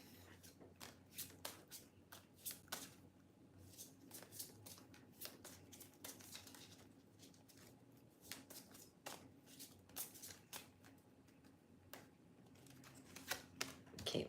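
Tarot cards are shuffled close up in a quiet room, with repeated quick riffles and soft slaps in uneven bursts and short pauses between them.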